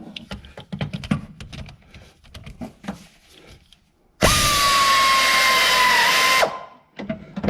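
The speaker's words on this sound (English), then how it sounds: "I'm going to use the air ratchet because there's almost no way to get in there without it." Air ratchet tightening a car battery terminal: a loud, continuous high whirr of about two seconds follows several close clicks and taps of tool handling, then more handling knocks after it stops.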